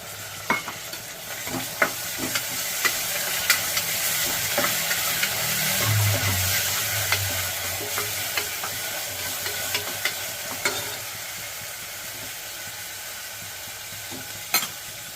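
Onions and tomatoes fry in oil in a pan for vegetable pulao, giving a continuous close sizzle. Scraping stir strokes sound now and then over it.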